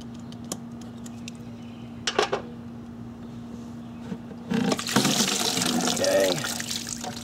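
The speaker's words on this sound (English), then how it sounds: "I just have a stopper and a bucket just to catch any water that comes out here" Water drains from an above-ground pool light hose into a bucket, heard as a steady splashing pour that starts partway through after a few faint clicks and handling sounds.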